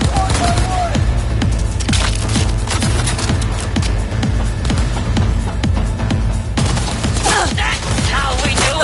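Rapid bursts of gunfire crackle constantly in a Cyberpunk 2077 firefight, dense and loud with overlapping shots and mechanical clatter. Voices call out over the shooting.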